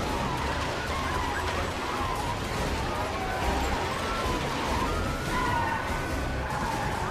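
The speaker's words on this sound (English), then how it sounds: "I'm going to kick off a police car chase in the nearby area" A police car chase in The Amazing Spider-Man video game, with wailing sirens rising and falling at a distance over a steady rumble of city traffic and engines.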